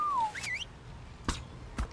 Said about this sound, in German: Ich muss mal kurz pfeifen.